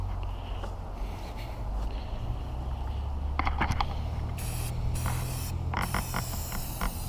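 Spray paint hissing onto the underside of a truck, a steady close spray interrupted by several short bursts and pauses.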